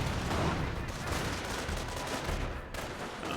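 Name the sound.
gunfire in video game Company of Heroes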